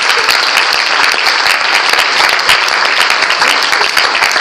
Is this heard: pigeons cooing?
no